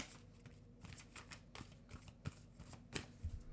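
A deck of cards is shuffled by hand during a tarot-style reading, producing soft riffling and papery flicks in uneven bursts, close and fairly quiet.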